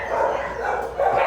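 Small dogs at an animal shelter bark and yip in a continuous, echoing chorus, fairly loud and close with no talk.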